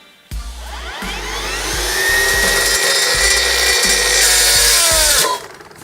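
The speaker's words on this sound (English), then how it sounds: "it's called a brush cutter, but will it cut through a literal hardwood brush handle?" A Greenworks brush cutter cutting into a hardwood brush handle, a loud high motor whine that rises and holds with a shrill grinding tone over low rhythmic thumping, then cuts off abruptly after about five seconds.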